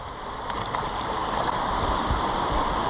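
A stream in Tasmanian bush rushes steadily toward Chasm Falls, a continuous, close gurgling and splashing flow with no talk over it.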